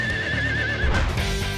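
A horse whinnies loudly during a race, a wavering high neigh followed by snorting and heavy hoof noise close by.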